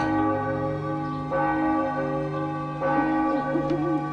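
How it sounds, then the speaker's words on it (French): A church-like bell tolls in the video game Enigmatis: Maple Creek, three resonant strikes about a second and a half apart, each ringing on with a long humming decay, no talking. "mais j'entends tout de même la cloche"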